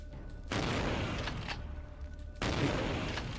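Shotgun blasts in a video game, two loud sustained bursts of fire, one early and one near the end, with a brief crackling lull between them.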